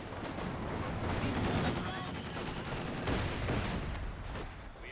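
Machine-gun fire in a war video game clatters in sustained bursts amid other shots and explosions, a steady, fairly loud barrage with some speech underneath.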